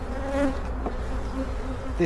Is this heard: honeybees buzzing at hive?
yes